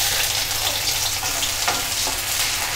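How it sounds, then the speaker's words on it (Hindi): Continuous crackling sizzle of chopped ginger frying in hot oil in a wok, steady and close, with a faint stir or clink partway through. "पहले हम इसमें कटा हुआ अदरक डालेंगे"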